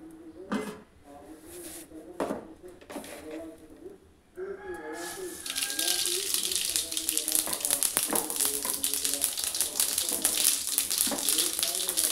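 Cumin and mustard seeds land in hot oil in a kadai and burst into a loud, dense, continuous sizzle, after a few earlier clinks and knocks of kitchen utensils.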